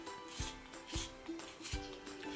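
Brown eyeliner pencil, a Barry M liner, turned in a small sharpener, giving three soft scraping, rasping strokes close up and alone.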